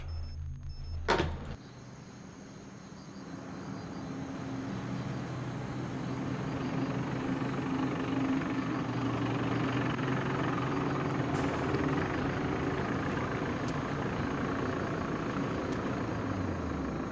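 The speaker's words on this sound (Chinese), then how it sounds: "我让直升机中队阻击他一下" Helicopters flying as a military TV drama sound effect, a steady rotor rumble building after a brief thump near the start and holding loud and continuous to the end, with no talk.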